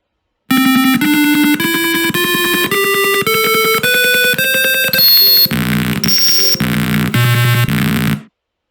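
A piezo buzzer driven by a microcontroller board plays an ascending sequence of about eleven short, evenly spaced tonal notes, each bright and sustained, loud and alone with no talking.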